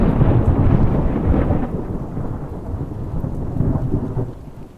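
Violent tropical thunderstorm over the Namib Desert in Namibia: a continuous heavy roar of rain with low rumbling thunder swelling and easing throughout, loud and close, with no voices.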